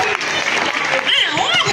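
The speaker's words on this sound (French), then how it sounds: "On applaudit." An audience at a school arts competition awards ceremony applauds, a brief burst of crowd clapping heard under excited voices and a few high cheers or whistles close by.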